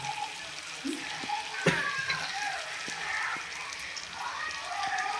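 Chicken chukka fry cooks in a pan with a soft continuous sizzle and occasional faint clinks, fairly quiet and close, while a voice speaks intermittently over it.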